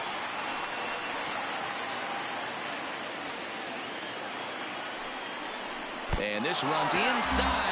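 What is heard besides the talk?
baseball stadium crowd murmuring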